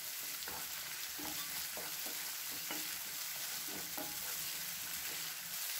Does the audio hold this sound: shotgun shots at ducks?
no